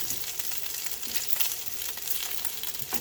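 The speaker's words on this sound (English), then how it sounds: "Now the bacon's cooking down" Bacon and breakfast sausage fry in a pan with a steady, dense crackling sizzle that runs throughout, close and fairly loud.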